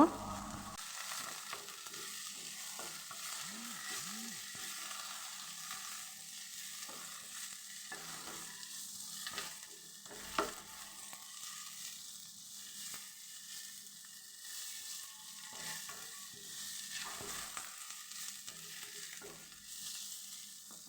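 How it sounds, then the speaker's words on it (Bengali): Garlic, green chillies, dried chillies and bottle gourd peels fry together in oil, a soft steady sizzle with occasional spatula clinks and scrapes, fairly quiet and close. "রসুন কাঁচামরি শুকনো মরিচ আমি সব কিছু একসাথে ভেজে নিব"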